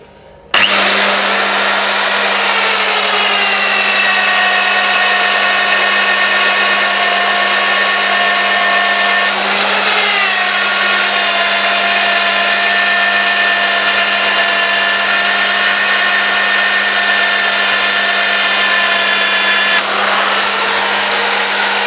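Electromagnetic magnetic-base drill boring metal castings during a water mill restoration, a loud sustained motor whine with a brief dip and recovery midway, running steadily for about twenty seconds before easing off.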